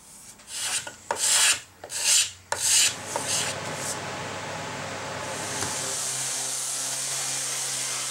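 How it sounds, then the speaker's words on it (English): A hand scraper works glue marks off the body of a Les Paul Junior style guitar with ABS binding, giving several rhythmic rasping strokes over the first few seconds before a steady, even noise takes over. "We just use a scraper. We just keep scraping until they've all disappeared."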